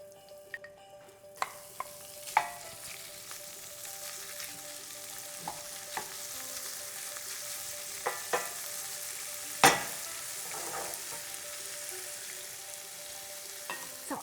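Smoky bacon crisping in a pan makes a low, steady sizzle under sharp, scattered clicks and knocks of a utensil on the pan, one louder clatter standing out midway, with no voices.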